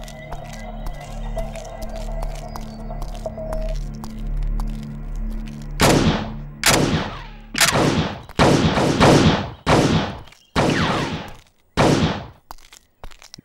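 Gunfire in a Hindi-dubbed South Indian action film scene: a low steady hum gives way to a rapid series of loud, sharp shots and bursts, close and echoing, with no talk over them.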